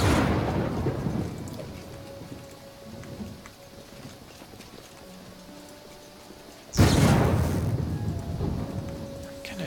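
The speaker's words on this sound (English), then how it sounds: "Tempted to just sit here and rest until the storm's over" In a video game, a thunderstorm pours steady rain while low thunder rumbles. A loud, close thunderclap breaks partway through and rolls on over the rain.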